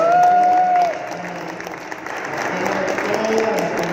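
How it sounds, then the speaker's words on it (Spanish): An audience at a church gathering claps in a sustained burst of applause, loud and dense from the start, then thinning and fading while a person speaks over the dwindling clapping. "Bueno, pues un aplauso de todas maneras."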